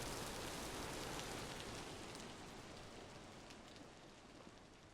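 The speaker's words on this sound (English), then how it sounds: "It's all the flippin' rain" Rain falls steadily in the survival game Vintage Story, a soft, even hiss of drops on surfaces with no pauses, fairly faint and heard alone without any talk.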